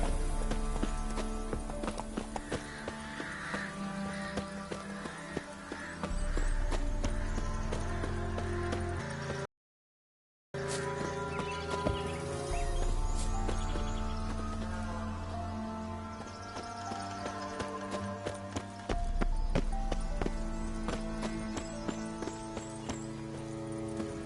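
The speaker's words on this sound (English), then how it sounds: "Giddy up. Whoa there, Roach" Horse hooves pounding at a steady gallop in the video game Witcher 3, a continuous rhythmic clip-clop close by over game ambience and music, with a brief dropout partway through.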